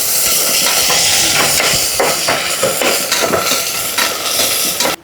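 Onions frying in a pan for mutton haleem, a loud, continuous sizzle and crackle with steady scraping and clinking from stirring throughout, no voices.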